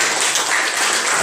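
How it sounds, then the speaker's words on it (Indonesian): Students in a classroom clap together in a short, dense burst of applause that stays steady and fairly loud throughout. "Tepuk tangan untuk kita semua dulu."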